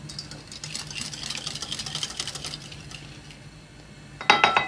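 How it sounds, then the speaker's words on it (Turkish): Batter ingredients being whisked in a bowl for fried cauliflower, a fast scraping, clinking whisk at close range for most of the stretch, ending in a sharper burst of metallic clatter. "Evet şimdi bu malzemeleri biraz çırpalım."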